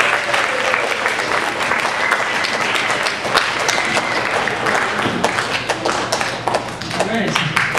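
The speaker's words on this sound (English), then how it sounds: "let's have another round of applause" A round of clapping from a geography bee audience, dense and fairly loud, sustained for several seconds with sharp individual claps standing out and voices in the background.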